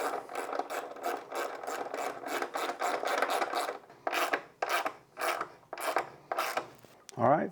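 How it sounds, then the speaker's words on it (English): A wrench tightens 10 mm bolts on a color-matched HEX fairing of a Harley Dyna or Softail motorcycle, giving fast, steady ratcheting clicks close by, then a few shorter spaced bursts of clicking. "when you're going to tighten these down, it is a 10 mil."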